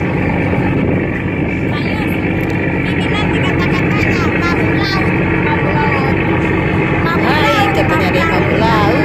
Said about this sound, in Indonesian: jadi kita gunain kapal lambat